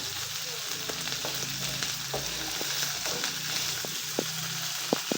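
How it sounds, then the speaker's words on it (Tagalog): Pork sizzles steadily in a hot pan while being sautéed, with scattered scraping clicks from the stirring spoon throughout. "Saute lang ng konti yan guys"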